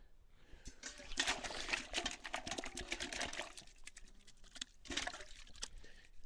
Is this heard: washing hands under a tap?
yes